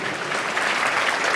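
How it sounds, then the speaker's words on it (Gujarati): Audience applause at a memorial prize-giving function, a dense steady clapping from a crowd that holds at an even, loud level for the whole stretch, with no talk over it. "એટલે તાળીઓથી વધાવીએ"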